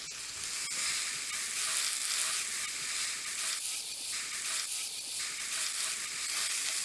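Cheese-stuffed burgers sizzle and fry steadily in a hot pan, a loud, close, continuous crackle with a few brief stirring scrapes and no talk.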